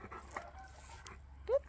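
A dog whimpering in a garden, a short high whine near the end amid quiet background noise, with faint sounds of people nearby.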